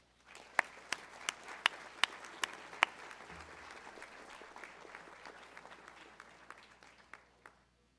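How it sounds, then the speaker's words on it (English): An audience at a college honors awards ceremony breaks into applause, a few sharp separate claps at first that thicken into a moderate, steady round of clapping before fading out near the end. "Give them a round of applause."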